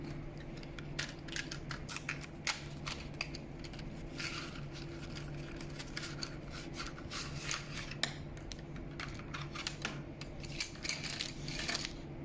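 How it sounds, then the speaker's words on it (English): Colour pencils are taken out and handled, giving a steady run of quiet rubbing, clicking and rattling knocks close by over a constant low hum, with no talking. "So I'm going to get my colour pencils out."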